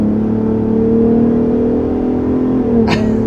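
A 2021 Ford F-150 Raptor pulls hard under acceleration, a steady, strong engine drone with a brief rising whine near the end, heard from inside the cabin.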